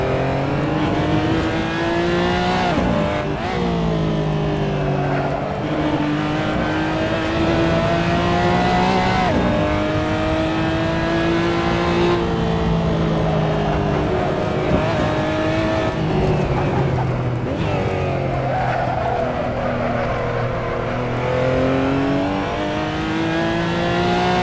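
Race car driving a hot lap on a circuit to warm its tyres: a loud onboard engine roar continuously rising and falling through gear changes and revs, with faint tyre squeal and no talk.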